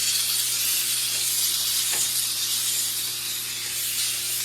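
A Steam & Go 10-in-1 steam mop, switched on, releases a steady, loud, close hiss of steam over a faint low hum, with no talking.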